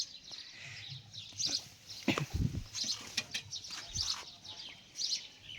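A goat bleating several times outdoors. The bleats are wavering and moderately near, mixed with bird chirps and a few thumps in a quiet rural setting, with no talk.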